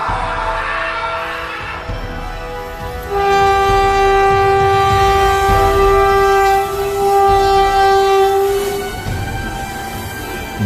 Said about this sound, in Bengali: সামনে থেকে ট্রেন আসছে।